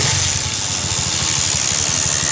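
A Honda Mega Pro motorcycle engine idles steadily after a kick start, a close, even low putter with a constant rhythmic pulse and no voices.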